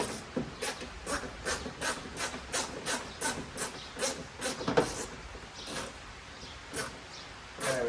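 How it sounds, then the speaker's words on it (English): An 8mm nut being tightened on a BMW M5 smoked aftermarket taillight, giving a steady run of rhythmic ratcheting clicks, about two per second, close and fairly loud with no talking. "while I'm pushing, I'm gonna start tightening the 8mm nut"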